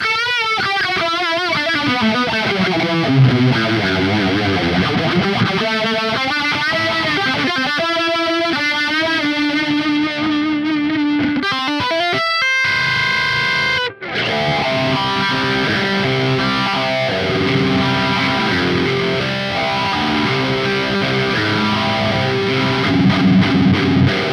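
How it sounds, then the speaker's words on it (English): Heavily processed electric guitar through a phaser effect, gritty distortion and a wobbling, warbly chorus-like modulation, playing continuously at loud, steady volume with a brief dropout midway. "like all the way up it almost sounds like a really warbly chorus"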